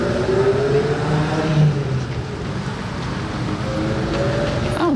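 A Ferrari 328 GTS engine on the road, a continuous droning run with pitch rising and falling as it revs, heard amid steady roadway noise.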